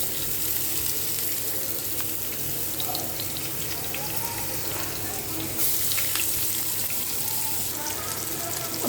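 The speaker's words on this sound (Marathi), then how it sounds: "आपण बघू शकता कांदा आणि टोमॅटो कसा फ्राय होत आहे." Onion and tomato fry in a pan after a pinch of asafoetida for palak paneer, giving a steady close broadband sizzle with faint watery clatter, continuous for the whole stretch and with no talk.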